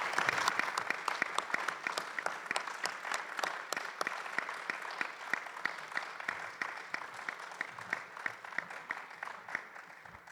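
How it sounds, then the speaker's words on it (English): Audience at a Korean War veterans panel applauding steadily for about ten seconds, a dense patter of many hands clapping at moderate distance with no talk over it. "Let's give them all a round of applause"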